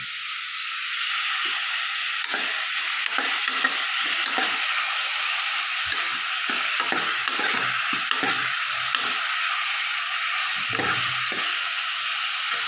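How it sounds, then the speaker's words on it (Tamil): Tomatoes and spices, with turmeric and asafoetida powder, sizzle and fry steadily in a pan for sambar, a continuous loud hiss with intermittent stirring scrapes and no talk. "இதெல்லாம் வதங்கட்டும்."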